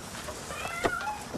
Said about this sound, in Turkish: Miyavlayıp durma.